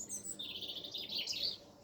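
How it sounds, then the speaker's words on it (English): Faint, high chirps from several small birds perched in a tree on a cold, snowy March morning in Scotland, heard from a distance over quiet outdoor ambience. "You can hear the sound of all the birds."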